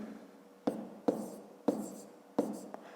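A pen or pencil writes numbers by hand in a math exercise, producing four crisp, evenly spaced tapping strokes up close, each followed by a short scratchy trail over quiet background.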